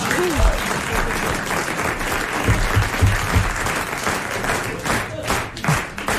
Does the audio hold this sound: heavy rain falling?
no